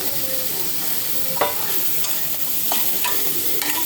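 Chopped ridge gourd sautés with crushed garlic and onions in a pan, a continuous close sizzle broken by a few sharp scrapes and clacks of a spoon stirring, with no talking.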